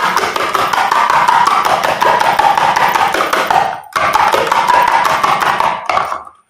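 Eggs being whisked with coconut oil in a bowl, a rapid, dense run of beating clicks that pauses briefly and resumes, loud and close, with no talk.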